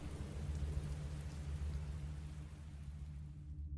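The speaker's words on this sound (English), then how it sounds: "There's no sun here though. It's constantly raining." Steady, constant rain falls in a video game scene as a soft, even wash of noise with a low rumbling hum beneath, quiet and unbroken until it fades out at the end.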